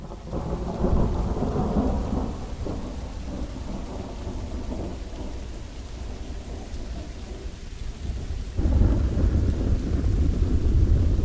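Steady heavy rain pours down with low rolling thunder rumbling throughout, swelling louder near the end.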